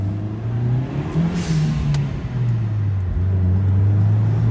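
A turbocharged Mitsubishi Lancer on a road test accelerates hard, its engine a loud, close, steady drone that wavers and dips briefly before climbing again.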